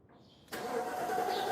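A 1989 Mercedes SL engine cranks briefly after a quiet moment, then catches and settles into a smooth, steady idle, heard up close.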